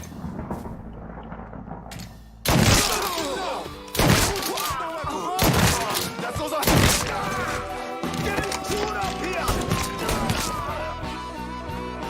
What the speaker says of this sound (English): I should shoot him, huh?